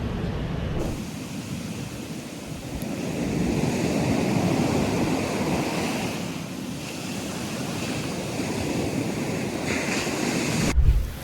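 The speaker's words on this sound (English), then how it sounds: "Just taking in the waves, man." Ocean waves in the Bahamas wash in with a broad, continuous roar that swells and ebbs, mixed with wind buffeting the microphone and no voices.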